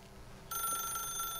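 A telephone in the video game The Stanley Parable starts ringing abruptly after a moment of low ambience, a steady electronic ring that continues without talk.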